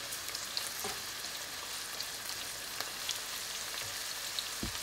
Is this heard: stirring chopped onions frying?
yes